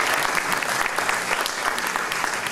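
An audience at a Holocaust Remembrance Day award event breaks into sustained applause, a full, dense clatter of many hands from a large crowd, loud and continuous throughout.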